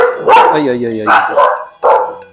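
A dog barks several times nearby in loud, separate bursts, with people talking over and around the barks.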